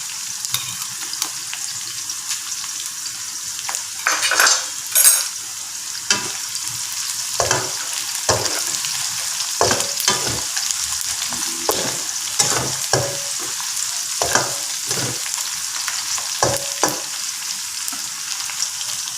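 Sliced onions fry for mutton perattal in a pan with a steady bright sizzle, while a spoon stirs them in repeated scraping strokes at an uneven rhythm, close to the pan with no talking.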